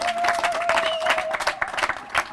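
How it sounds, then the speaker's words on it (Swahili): A crowd at a party press conference claps steadily, a moderately loud patter of many hands with some voices mixed in. "Kuja tumpigie makofi."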